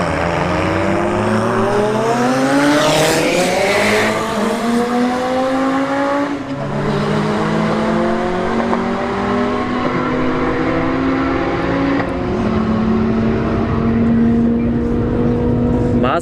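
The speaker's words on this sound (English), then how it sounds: "We got the Jetta in the right lane and the Mazda Speed 3 here in the left lane." A Jetta and a Mazda Speed 3 drag racing at a strip, engines roaring loudly as they climb through rising gear pulls, with continuous loud track noise.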